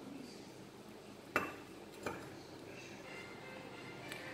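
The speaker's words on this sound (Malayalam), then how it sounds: "അതിനുശേഷം ഒന്നുകൂടെ നമ്മളിതിങ്ങനെ മിക്സ് ചെയ്ത് കൊടുക്കുകയാണ്." A spoon stirring milk into an egg caramel pudding mixture in a bowl, with a couple of distinct clinks against the side over quiet, soft scraping.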